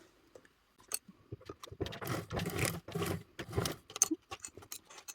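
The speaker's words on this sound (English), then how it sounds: "we are going to sew all 3 of these layers together now with a 3/8 seam allowance" A sewing machine stitches three layers together, lining, zipper and outer fabric, with a 3/8 seam allowance: a few scattered clicks and handling noises, then a short, close burst of running stitching, with no voice heard.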